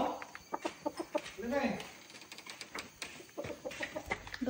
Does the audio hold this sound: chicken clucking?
yes